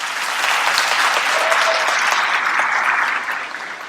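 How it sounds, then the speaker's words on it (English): An audience gives a round of applause for the school staff and volunteers at a Sunday school welcome event. The clapping is dense and sustained, then eases slightly toward the end. "So please give them a round of applause."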